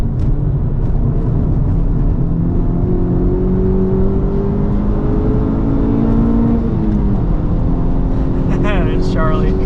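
A 2023 Honda Civic Type R is driven hard on a track-day hot lap. The engine revs climb and shift steadily under a loud, constant rush of wind and road noise.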